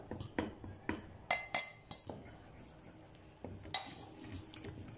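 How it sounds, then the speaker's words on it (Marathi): Dough stirred in a pan with a wooden rolling pin while making spicy pudachi patvadi, a series of close knocks, clinks and scrapes of wood against metal at an uneven pace, no talk. "एक लाकडाचं काही आपण लाटणं म्हणा, रवीचा मागची बाजू म्हणा, कशाने हलवत राहायचं एकसारखं"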